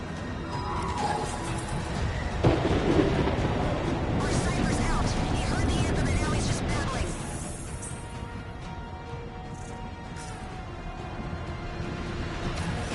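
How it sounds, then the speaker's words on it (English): Stormy ambience from the video game Anthem, a cataclysmic storm called the Heart of Rage: dense, roaring broadband rumble with crashing gusts and a sharp crack near the start, loud and continuous throughout without speech. "You're in a cataclysm, terrible storm, called the Heart of Rage."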